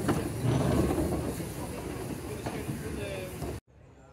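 A steam train runs on the Talyllyn Railway, a steady rumbling roll with hiss and rhythmic wheel clatter, fairly close, fading slightly before cutting to quiet.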